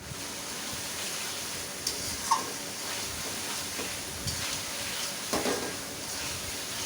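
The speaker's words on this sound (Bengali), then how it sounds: "ভেজে রাখা আলুগুলো দিয়ে দিলাম। মশলার সাথে আলুটা ভালো করে মিশিয়ে নেব।" Fried potatoes are stirred with spices in a pan for boal fish curry, a soft steady sizzle broken by a few brief scraping clinks of the spoon, quiet and close.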